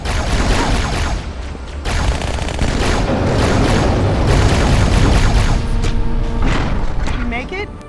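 Grenade blast and battle noise in the 2004 video game Halo 2: loud booms and gunfire bursts in a dense, continuous roar, with voices shouting over the fighting.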